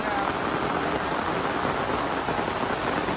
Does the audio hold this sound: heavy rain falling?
yes